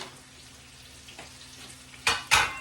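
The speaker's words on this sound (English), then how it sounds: "take our bacon pieces and dump them in there" Bacon pieces tipped into a pan for cowboy corn, heard as two sudden loud bursts of sizzle and clatter after a quiet, faintly hissing stretch.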